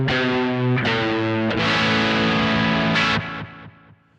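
Electric guitar played through a pedalboard with no amp, strummed chords ringing with distorted, effect-laden tone, several sustained strikes that fade out at the end.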